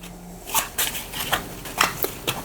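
A deck of cards for the Elden Ring board game is shuffled close by, with several quick riffling bursts that come in an uneven rhythm against a quiet room.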